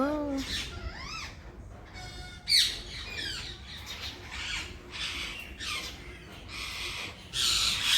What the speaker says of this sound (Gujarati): ઘણા બધા પોપટ આવી ગયા છે